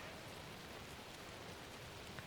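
Steady rain falls in the video game Alan Wake 2, a soft, even hiss with no breaks, faint and distant.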